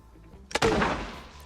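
A single heavy grenade explosion in the video game Arena Breakout booms out after a brief click, its rumble decaying over about a second.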